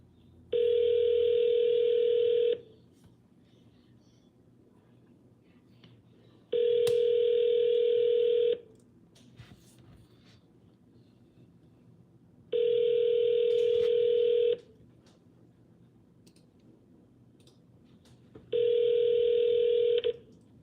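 A telephone call rings before reaching voicemail. The steady electronic ringback tone sounds four times, each lasting about two seconds with pauses between, clear and alone over faint room hiss.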